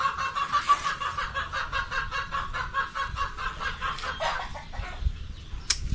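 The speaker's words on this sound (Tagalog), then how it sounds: "maraming manok" Many chickens clucking together in a busy, continuous chorus at close to middle distance, with overlapping cackles and a sharper call near the end, no talking.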